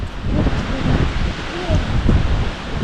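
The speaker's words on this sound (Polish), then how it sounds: "Ciepło, tylko wiatr okrutny." Strong wind roars and buffets steadily in low, rumbling gusts on Radziejowa mountain in the Beskid Sądecki, with faint muffled voices underneath.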